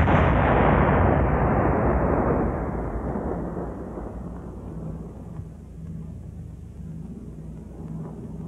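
WWII howitzer firing a shell: a heavy, deep boom opens loud and close, then a long rumbling decay rolls away over several seconds into a quieter low background.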